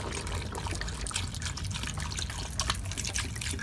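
Beef bone broth pours into an Instant Pot in a steady liquid trickle and splash, continuous and close, with no talking.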